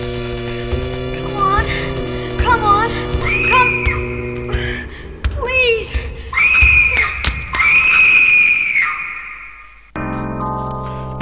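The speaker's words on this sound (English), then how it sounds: "Okay, so we have random screaming." Shrill, wavering synthetic screams from a retro video game, several cries rising and falling over chiptune tones and beeps, loud and close, the screaming bursts repeating irregularly before cutting off near the end.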